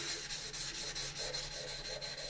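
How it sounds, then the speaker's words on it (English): Wet sanding a plastic model kit of the U.S.S. Enterprise with sandpaper: a steady, close back-and-forth rubbing in an even rhythm of short strokes, soft and continuous with no talk. "That's the whole reason why they do the wet sanding technique, is to keep your sandpaper fresh"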